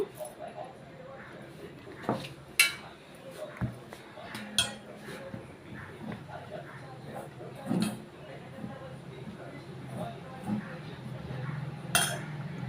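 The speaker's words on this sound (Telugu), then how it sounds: "ముందు స్పూన్తో కలుపుకోవాలి" A spoon clinks and scrapes against a bowl in irregular strokes as it mixes batter, while someone talks over the stirring.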